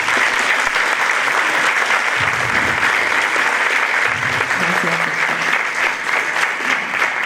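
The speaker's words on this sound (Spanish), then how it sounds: "les pido por favor que recibamos al doctor Valenzuela Arce con un fuerte aplauso" An audience at an academic talk on youth, emotions and social participation gives a long, steady round of applause to welcome a speaker, dense and even throughout, with faint voices murmuring beneath it.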